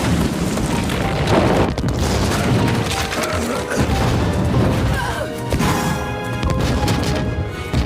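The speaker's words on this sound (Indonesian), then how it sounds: "Hingga akhirnya pohon itu roboh." A huge Omaticaya home tree in Avatar collapses under gunfire with heavy booming crashes and rumbling impacts, followed by splintering and a long roaring fall. The sound is loud, dense and dramatic, with no voices over it.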